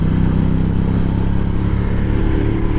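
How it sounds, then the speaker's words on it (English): A 2013 Ducati Diavel AMG V-twin motorcycle engine runs steadily close by, a deep, loud, throbbing idle with an even pulsing rhythm and no voices. "I love the sound of a good racing V-twin."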